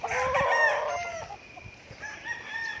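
Gamecock rooster crowing at a farm where fighting cocks are kept, a loud, close, drawn-out cock-a-doodle-doo with harmonic warbling that trails off, followed by a second, softer crow near the end.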